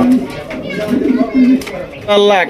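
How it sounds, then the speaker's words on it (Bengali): Fancy pigeons, including Lahori and large bulldozer-type birds, coo in a loft in low, throaty bursts under continuous nearby talking. "মনি ভাই, এটা নর না মাদি কবুতর ভাই?"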